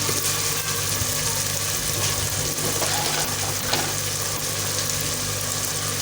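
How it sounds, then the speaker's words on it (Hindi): Curry masala frying in a pan over low heat while cooking turai gosht, a steady soft sizzle with faint stirring over a constant low hum, no talking. "तो हल्की आंच पे हम इसको भूनते रहेंगे।"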